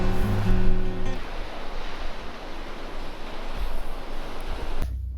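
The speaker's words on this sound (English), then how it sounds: "just the sound of the sea. It's pretty nice and peaceful." Sea waves wash onto the shore in winter, a steady broad roar close by that fills the stretch and drops away abruptly at the end, with no talk.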